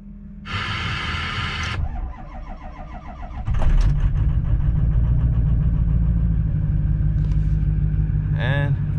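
A cold 2003 Ford F350 dually diesel gives a short chime from the glow-plug wait, then cranks and catches into a steady, deep, loud idle rumble, with a person talking over it.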